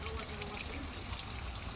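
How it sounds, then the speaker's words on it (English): Water is poured through a catalytic converter while testing it for a blockage, a steady close hiss and trickle of flowing water running throughout without talk. "What I like to do is I put water through this opening here and it should flow out here."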